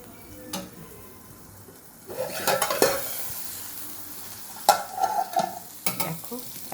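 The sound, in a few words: pointed gourd (potol) frying in a pan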